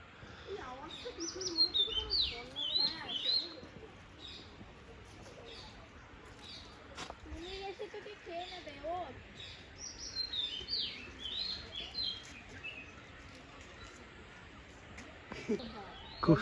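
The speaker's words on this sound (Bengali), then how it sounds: "এখানে অনেক পাখি রয়েছে, অনেক পাখি আছে এদিকে।" Scattered high chirps and tweets from birds at a bird sanctuary near Srirangapatna, faint and intermittent over soft background noise with occasional voices.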